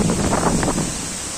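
Heavy rushing water at Bambarakanda waterfall, Sri Lanka's tallest cascade, forms a dense, steady roar that fills the whole clip, with no voices.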